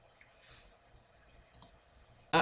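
A single sharp computer mouse click while working in Mastercam CAD software, preceded by a few faint softer clicks in a quiet room.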